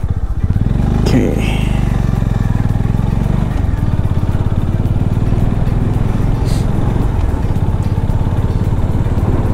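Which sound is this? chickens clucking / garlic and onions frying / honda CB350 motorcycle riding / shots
honda CB350 motorcycle riding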